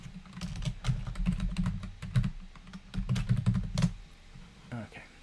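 Rapid, uneven clicks of fingers typing on a computer keyboard, close and fairly loud, with keystrokes bunching in quick bursts and a couple of louder taps near the end.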